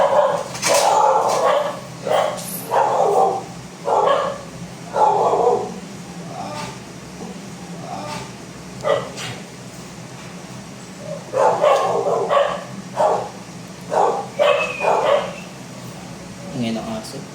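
A dog barks repeatedly in loud bursts, some clustered in quick runs, with short gaps between them.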